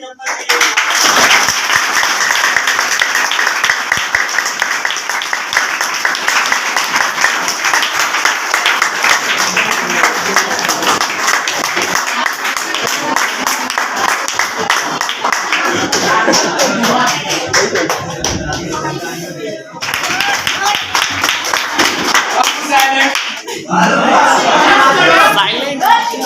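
Audience clapping at a farewell party, loud sustained applause from a crowd that continues for a long stretch, with shuffling and voices mixed in and a short lull near the end before the clapping picks up again.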